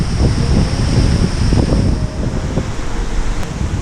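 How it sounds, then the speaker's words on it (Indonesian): A large hidden waterfall in the Simalungun forest dropping ten to twenty meters, heard as a loud constant roar mixed with heavy gusting wind buffeting the microphone. "Air yang besar jatuh dari ketinggian 10 hingga 20 meter"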